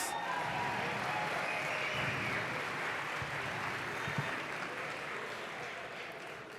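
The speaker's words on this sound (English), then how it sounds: "Keep that round of applause going" Audience applause at an Anaheim Ducks hockey preview event as a club president is welcomed to the stage: a faint, steady wash of clapping from a crowd that slowly tapers, with some voices mixed in.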